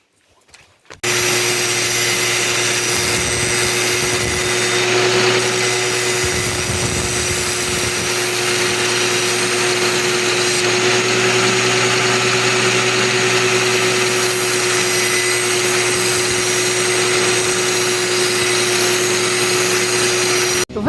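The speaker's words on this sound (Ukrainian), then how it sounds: "болгаркою, звичайною електричною болгаркою" An electric angle grinder sharpening knives runs with a steady, loud whine and hum, holding an even pitch for a long stretch after a short quiet start.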